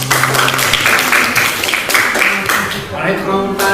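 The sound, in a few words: audience applause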